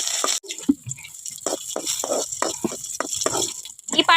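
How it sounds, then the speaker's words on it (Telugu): Ripe red chillies frying in oil and being stirred: a constant hiss of sizzling runs under a steady rhythm of scraping, clattering strokes from a spoon in the pan. "ఈ నూనె అనేది కొంచెం హీట్ అయ్యాక ఆల్రెడీ మనం కడిగి పెట్టుకున్న పండు మిర్చిని అయితే వేసేసుకుంటున్నాను"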